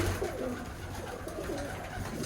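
Birmingham Roller pigeons coo in low, soft repeated phrases, close by and steady over a faint background hum, with no one talking.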